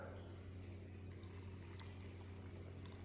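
Salt brine poured from a container over pickles in a jar for fermented half-sour pickles, a soft steady liquid fill and splash, low and even, with no talking.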